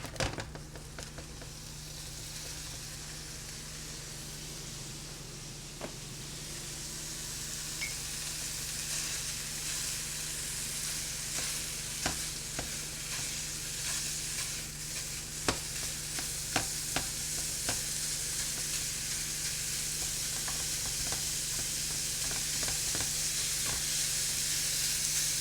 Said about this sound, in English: so let's put the meat in.